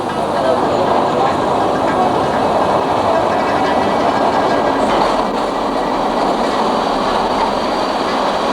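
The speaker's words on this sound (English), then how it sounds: "about to leave Suzhou on the long train trip" A train runs on rails in the Yangtze River Delta between Suzhou and Hangzhou, with a loud, continuous rumble and rattle of carriages heard from on board throughout.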